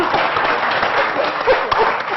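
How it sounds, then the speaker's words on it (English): A conference audience claps for a panel on Indian cities, a dense, close round of applause filling the whole moment without a break. "Yes, a big round of applause"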